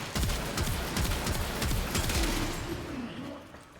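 Rapid gunfire from the Shedu weapon in Warframe, a dense run of close, sharp shots repeating through the clip against enemies such as bombards and heavy gunners, with game effects humming beneath.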